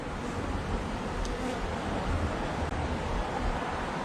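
A dense, continuous buzzing hum of many honeybees inside an open hive fills the air, steady and close, with no pauses.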